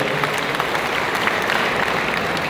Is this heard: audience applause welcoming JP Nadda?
yes